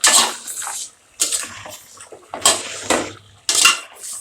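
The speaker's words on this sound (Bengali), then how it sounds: "একটু নেড়ে দিই।" A utensil stirs mango fish curry in a cooking pot in a few separate scraping, clattering bursts with gaps between, close and moderately loud with no talking.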